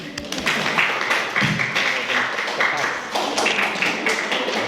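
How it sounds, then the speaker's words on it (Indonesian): An audience in a political strategy class applauds for a student, rapid dense clapping that stays loud and even throughout, with a voice briefly heard over it. "aplaus buat Reno"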